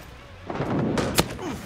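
Gunfire in the Vietnam-era shooter Rising Storm 2: Vietnam, a couple of distant-sounding cracks and booms that echo over a muffled battlefield rumble.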